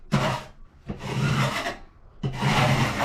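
A two-sided sanding sponge rasps across a bathroom wall in three long, steady scrubbing strokes with short pauses between them, close and moderately loud.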